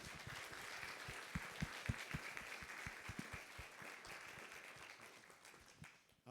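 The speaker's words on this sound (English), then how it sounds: "All right, let's give our speakers one more round of applause." Audience applause for the speakers at a talk, a fairly quiet round of distinct individual claps that holds steady and then fades out over several seconds.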